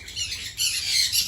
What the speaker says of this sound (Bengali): এই সমস্ত পাখিগুলো রিংনেক, ককাটেল,